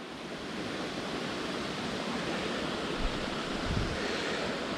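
A trout-filled stream flows steadily along a forest trail in the wild Royans area of the Drôme, giving a continuous, soft rushing wash of water with no voices.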